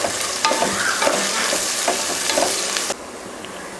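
Onions sizzle and crackle as they fry in hot oil in a cooker for mutton biryani, with close, loud stirring scrapes over the steady frying hiss before the sound drops off sharply near the end.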